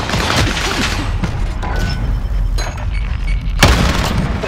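Gunfire in Call of Duty: Warzone, a dense stream of booming shots and heavy impacts with one louder crack near the end, continuous and loud.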